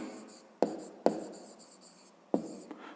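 A pen writes maths working on paper, giving a steady faint scratching with a few sharp taps as strokes begin, close and quiet, with no talking.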